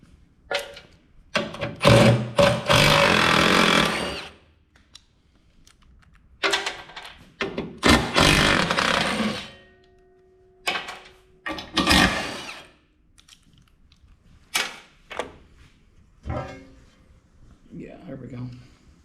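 Bolts come out of a Fecon forestry mower housing in a series of loud, buzzing power-tool bursts, some long and some short, with pauses and clunks between them.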